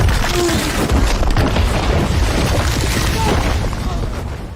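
A house blown up in a film scene, a loud roaring blast with dense rumbling debris that rolls on and slowly fades over several seconds.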